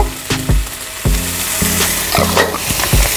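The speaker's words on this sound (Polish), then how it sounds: "do podsmażającego się kurczaczka z cebulką dorzucam już łyżeczkę pieprzu" Chicken and onion fry in a pan, a steady close sizzle punctuated by several sharp knocks and scrapes of a utensil against the cookware, with no voices.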